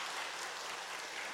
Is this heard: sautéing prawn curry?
no